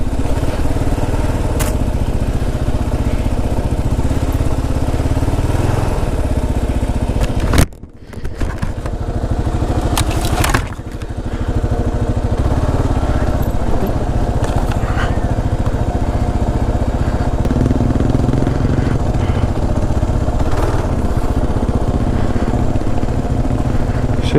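A Kawasaki KLR 650 motorcycle ridden off road, its engine droning loudly and steadily with gravelly scraping and clatter, a brief dip and drop-out midway before it roars back up.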